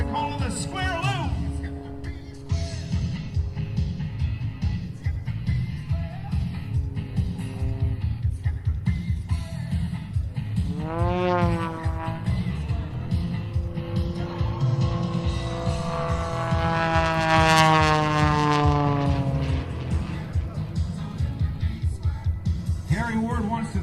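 An aerobatic airplane flown by Gary Ward performing a square loop at the Pensacola Blue Angels Homecoming air show, its engine droning with sharp pitch sweeps as it climbs and turns, loud and steady throughout, and a voice talks faintly underneath.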